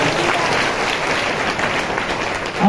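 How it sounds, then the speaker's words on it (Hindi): A congregation at a Christian worship service claps together, dense continuous applause filling the room at moderate loudness, with faint voices mixed in near the end. "ताली बजाइए।"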